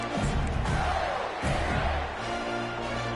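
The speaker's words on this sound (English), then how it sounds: "how nice is it to have the home crowd going absolutely bananas?" A home crowd roars throughout a college football video game, a dense continuous wall of cheering with surging swells.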